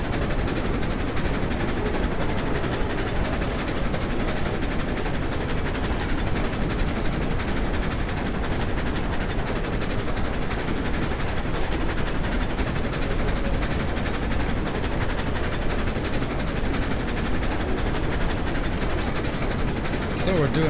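A Class 48 steam locomotive in Railroads Online runs at full speed, giving a steady, dense mechanical rumble and churning that stays loud and unbroken throughout, with possible voice underneath.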